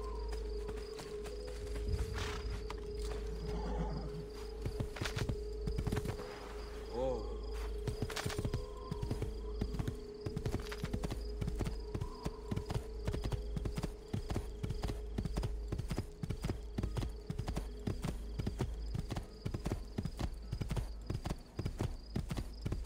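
In Assassin's Creed II, rapid, steady horse hoofbeats clop continuously through the whole stretch, with a brief whinny early on and a low steady hum behind.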